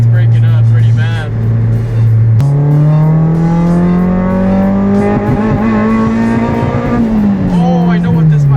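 Turbocharged engine in a Toyota Sequoia-related build revs while breaking up, its tone rising and stuttering unevenly over several seconds, loud and close, with people talking over it.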